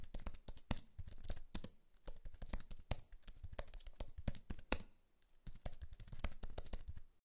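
Rapid, dense keystrokes on a computer keyboard while a message is typed, close and clear, with bursts of clicking broken by brief pauses and no talk.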